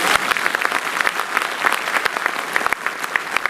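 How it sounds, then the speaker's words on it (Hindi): Audience at a railway employees' event with a central government minister on stage breaks into loud, dense clapping that stays steady throughout, with a faint voice underneath. "तो अश्विनी वैष्णव जी के लिए भी जोरदार ताली बजा दो भाई।"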